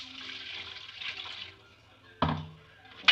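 Water splashes and runs briefly into a cooking pan with ginger-garlic paste, then two sharp pouring bursts follow after a quiet stretch, close by with no talking.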